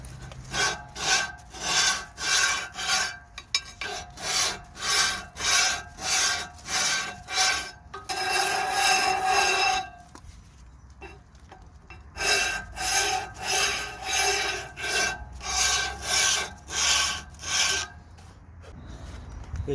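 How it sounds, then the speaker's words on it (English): A wire brush scrubs dust and debris off the rear brake area and disc of a BMW X1, rapid rhythmic rasping strokes in close bursts with a brief steadier scrub in the middle. "We're gonna wire brush all this area to remove all the dust and debris."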